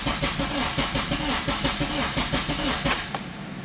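A Honda K24 engine swapped into an EP3 cranks weakly on a tired battery, a loud, steady run of rhythmic chugging strokes with a hissy, raspy edge that never catches.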